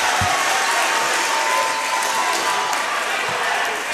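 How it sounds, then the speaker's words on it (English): A noisy crowd fills a high school varsity basketball gym with a steady, loud roar of cheering and chatter, and faint ball or shoe sounds are buried beneath it. "Crowd is noisy, including us."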